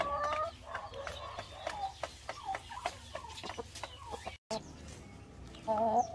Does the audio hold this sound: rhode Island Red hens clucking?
yes